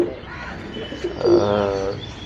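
A Dubai pigeon in India gives a close, clear coo, a short rolling call that swells in the second half, with faint background noise and no talk.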